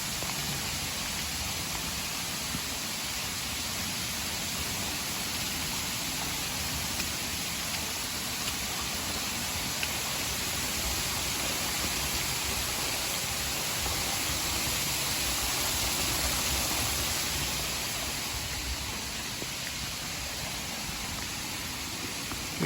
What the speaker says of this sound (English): And here are the waterfalls.